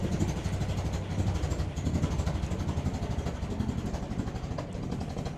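A Land Rover Series 2a station wagon engine running rough, with an uneven, pulsing mid-pitched chug that is fairly close and steady in level, and no voices over it.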